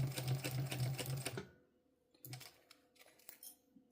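A sewing machine runs a fast, steady burst while back stitching a bum bag seam, then stops, followed by a few sparse clicks and small handling taps close by.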